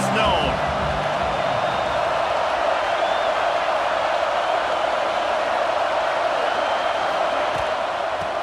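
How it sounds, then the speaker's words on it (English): A stadium crowd in the College Football 26 video game sends up a broad, steady roar that holds throughout at a constant level, with a commentator talking over it. "This crowd ready to make its presence known."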